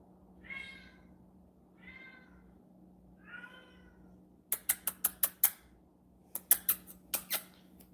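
A kitten meows three times, thin and high-pitched, each call separated by a pause, followed by a run of sharp, close clicks and taps, with no one talking.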